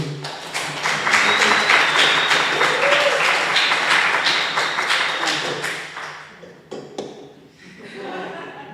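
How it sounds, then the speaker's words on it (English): At a student-organized event, a live audience applauds the organizers and whole team with strong, rhythmic clapping that swells early, then gradually thins out into scattered claps and faint voices near the end. "I would like to have a big applause for the organizers, for the whole team"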